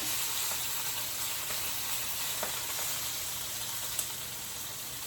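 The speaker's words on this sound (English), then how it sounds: "You can also sear your side like this." Pot roast searing in a hot pan gives a steady, moderate sizzle that holds evenly throughout, with a couple of faint clicks and no talking.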